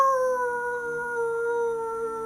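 People howl like a wolf, a sustained, steady vocal wail held for over two seconds at moderate loudness with no other sounds, a human imitation of a wolf howl.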